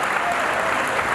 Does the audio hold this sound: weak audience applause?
yes